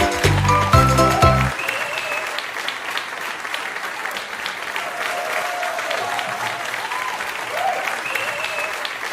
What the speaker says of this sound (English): give a huge round of applause for our guest